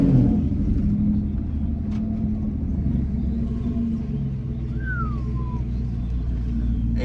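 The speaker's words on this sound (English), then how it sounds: "Ain't nothing better than that turbo noise" Twin-turbo Ford F-150 pickup driving on the road, a steady, loud low rumble of engine and road noise throughout, with a brief rising-then-falling whistle-like turbo note in the middle.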